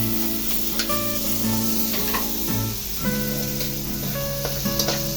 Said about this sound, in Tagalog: Pwede na rin natin ilagay ang ating sibuyas.